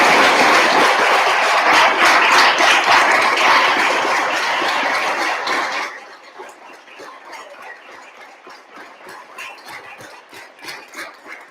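Applause at a city council meeting, a full room clapping loudly and steadily, then thinning to scattered, softer claps that trail off.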